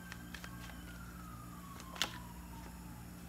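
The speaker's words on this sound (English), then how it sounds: "There go them sirens" A distant siren wails faintly, its pitch sliding slowly downward, over a low steady hum with a brief sharp click partway through.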